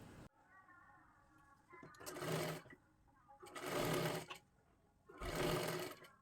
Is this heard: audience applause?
no